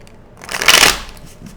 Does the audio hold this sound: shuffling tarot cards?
yes